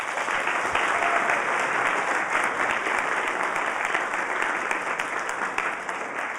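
A large lecture hall crowd of around 500 students claps in a dense, steady wash of applause lasting several seconds, with no voices over it.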